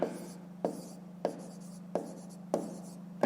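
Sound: writing by hand

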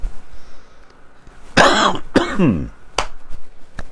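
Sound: cough

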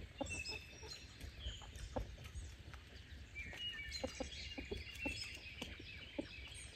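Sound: chickens and rooster vocalizing

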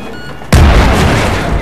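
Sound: C4 explosive blast in a video game

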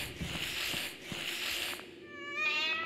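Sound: cat meowing in Five Nights at Freddy's: Into the Pit, video game

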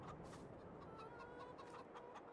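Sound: chickens clucking in the video game Farming Simulator 22

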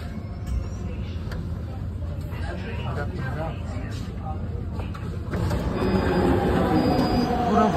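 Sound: metro train arriving at station

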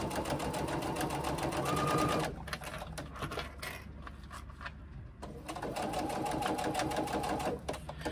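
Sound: sewing machine stitching

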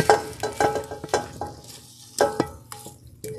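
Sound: meat sizzling in a pot

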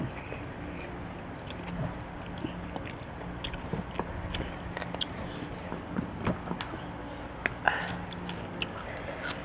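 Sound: slurping and eating spicy Thai salad broth

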